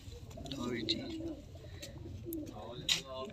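Caged pigeons coo softly in low, repeated murmurs close by, with a couple of brief sharp chirps and clicks as people talk over them.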